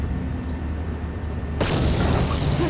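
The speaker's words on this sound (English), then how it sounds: "Hello, zombies. Have a grenade." A grenade goes off in the Star Wars: Knights of the Old Republic game, a sudden heavy boom that bursts over a low rumbling background and lingers as a dense, sustained roar.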